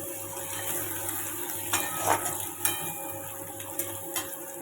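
Onion-tomato paste and potatoes sautéing in a pan, with a soft steady sizzle and a few scraping stirs and light clinks of a utensil against the pan, close and fairly quiet.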